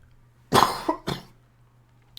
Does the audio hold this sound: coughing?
yes